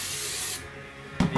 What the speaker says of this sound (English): I'm just going to use brake part cleaner to get some of the remaining stuff out